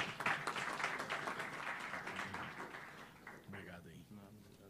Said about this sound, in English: Let's give another round of applause to Osvaldo